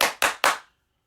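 Three quick, sharp hand claps in an even rhythm, close and loud, followed by silence.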